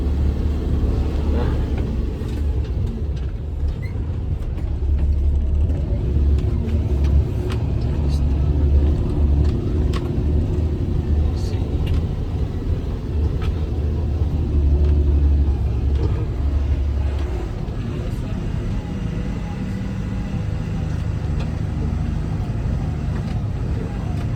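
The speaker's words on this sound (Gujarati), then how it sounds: "આપણી ગાડી ભરાઈ ગઈ અને આપણે નીકળી ગયા" A loaded goods vehicle at a Narmada canal construction site pulls away and drives on. A heavy, steady engine and road rumble continues throughout with small bumps and rattles, with faint talk underneath.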